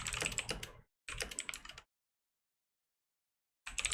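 Rapid keystrokes on a computer keyboard, close and clear, in two quick bursts separated by a short pause, then a long silence before a third burst starts.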